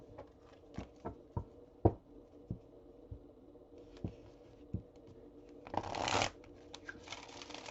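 Playing cards shuffled by hand in a quiet room: a run of soft, irregular riffling taps, then a louder, denser burst of shuffling near the end, close up with no talking.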